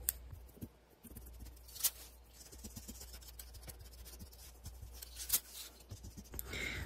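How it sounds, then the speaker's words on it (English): Pencil marks are rubbed off paper with an eraser in a papercraft project, giving faint, soft scratchy rubbing strokes close by, with a few sharper brushing accents. "And then you can erase the pencil marks."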